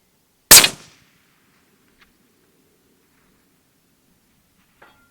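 A Bergara B14 Wilderness rifle chambered in 300 PRC fires a single sharp, loud shot that decays quickly outdoors, followed by a tiny faint tick and then a distant soft impact several seconds later.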